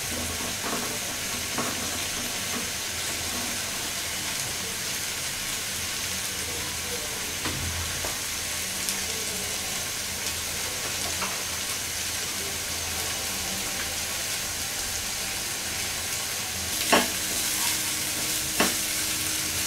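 Onions frying in mustard oil in a pan while being stirred, a loud continuous close sizzle with occasional scraping clinks of the utensil, no talking.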